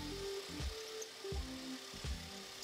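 A step drill bit grinds through 1/4 inch steel plate in three rhythmic strokes, each rising to a rough, close scraping bite and then easing off, with the drill motor humming underneath.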